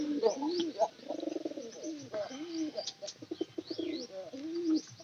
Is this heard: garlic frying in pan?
no